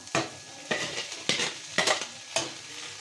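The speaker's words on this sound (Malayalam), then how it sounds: "അപ്പോൾ നമുക്കിനി സേമിയ ഇട്ട് കൊടുക്കാം." Vermicelli (semiya) stirred in a pan with a utensil, five loud scraping strokes spaced roughly half a second apart against a faint background sizzle, with no talking.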